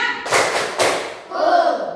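A class of students performs a third clapping pattern, two loud group claps in quick succession, bracketed by children's chanting voices.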